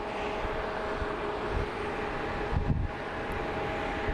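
A United Boeing 737 MAX 9 jet departs Phoenix Sky Harbor International Airport bound for LAX, its engines giving a steady, broad roar that holds throughout with a slight swell in the middle.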